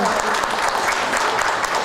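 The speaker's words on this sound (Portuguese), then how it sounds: "Uma salva de palmas para essas duas pessoas maravilhosas aqui." Steady, dense applause from a conference audience, loud and continuous throughout without a break.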